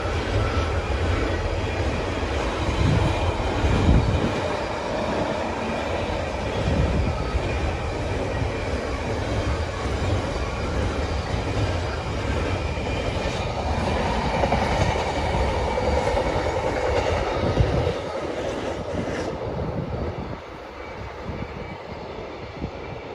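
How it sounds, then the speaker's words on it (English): A heavy Freightliner freight train rumbles past close by, a continuous loud rolling roar with rattling wagons that eases off near the end. "Freight train, Freightliner."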